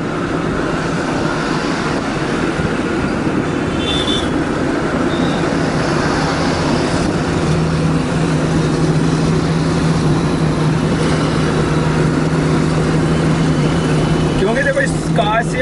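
A car cruising in second gear behind another car on a road, a continuous engine and road rumble with a low steady hum, and someone talking over it throughout.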